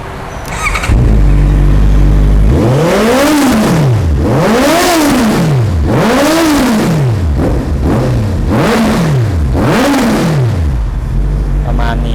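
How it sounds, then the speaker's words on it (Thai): A 2019 Honda CBR650R sport motorcycle engine is revved repeatedly, about six sharp rising-and-falling surges over a steady idle, loud and close. "เดี๋ยวลองฟังเสียงเครื่องยนต์กันดูนะครับ"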